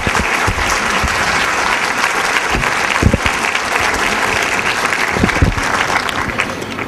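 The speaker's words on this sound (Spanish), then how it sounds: "Dele un fuerte aplauso al Señor en esta hora." Loud, continuous applause from a church congregation clapping for the Lord during a sermon, dense and steady with a few sharper claps standing out, no speech over it.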